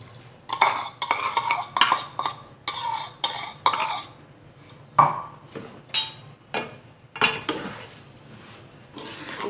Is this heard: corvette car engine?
no